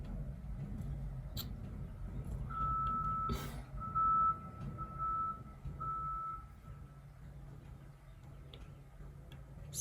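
A thin, steady electronic beep repeats in short evenly spaced tones in the background, fairly faint over a low room hum, with a few clicks and knocks around it.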